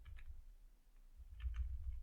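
Faint keyboard typing as code is entered on a computer keyboard, two short clusters of soft key clicks separated by a pause, quiet and close with a low hum underneath and no voices.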